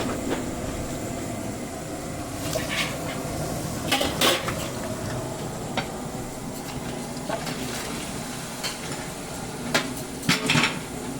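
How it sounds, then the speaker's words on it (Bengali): Marinated meat going into fried spice paste in a kadai for a Bengali party-style dish, heard as a steady cooking rumble with scattered metallic clinks and clatters of a utensil against the pan, loudest near the end. "এখন দিয়ে দিচ্ছি মেখে রাখা মাংসগুলো।"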